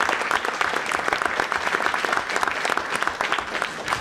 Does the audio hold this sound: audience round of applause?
yes